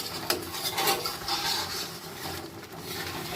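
Raw mango pickle cooking with fried spices in a pan, stirred so the mango softens; continuous close scraping and stirring over a faint sizzle, with no voices.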